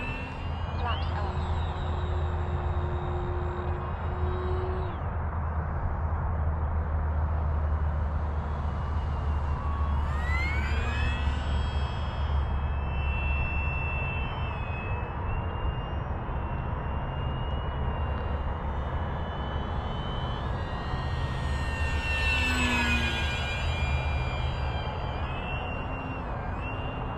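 An FMS Maule 1500mm RC airplane flies at about half throttle, its electric motor whining steadily with pitch sweeping up and down as it passes, heard over a continuous low rumble of nearby background noise.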